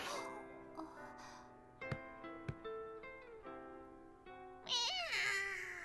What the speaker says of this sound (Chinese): 哎呀，是那只猫啊！